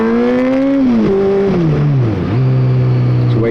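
Honda CBR600F motorcycle with an aftermarket exhaust revving loudly up and down close by, the engine note swelling, dipping and settling into a steady drone.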